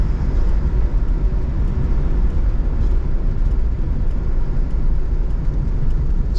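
A 1976 Ford Mustang II drives along a road, heard from inside the cabin as a steady low engine drone with road and wind rumble, even in loudness throughout.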